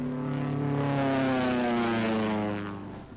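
A WWII propeller aircraft roars past low on a skip bombing run, its engine drone loud and steady with a slowly falling pitch before fading slightly at the end.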